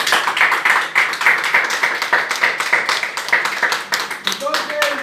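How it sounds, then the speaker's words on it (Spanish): Church congregation clapping hands in praise, a steady rhythmic patter of many palms filling the room with voices and singing mixed underneath. "Palmas para el Señor."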